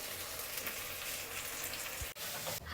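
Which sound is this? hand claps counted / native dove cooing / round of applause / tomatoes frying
tomatoes frying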